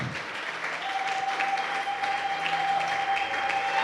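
A church congregation at a seminar applauds, a steady, dense clapping that fills the room without a break.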